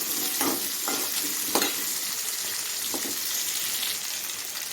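Onions and tamarind sauté in a pan for pirandai chutney, a steady close sizzle with several soft scraping stirs of a spoon breaking through, no voices.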